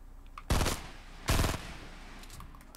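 Two loud, close gunshots from the video game Fortnite Battle Royale, spaced under a second apart, each a sharp broadband crack with a brief tail over a quiet background.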